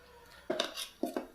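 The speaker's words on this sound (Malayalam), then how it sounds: "ഇഷ്ടക്കറി ഒന്ന് ഇളക്കണം" A spoon stirs Kerala ishtu stew in a pot, making a few distinct metallic scrapes and clinks in two short bursts against a quiet background.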